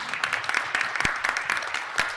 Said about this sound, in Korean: 모두 박수로 끝내는 걸로 하겠습니다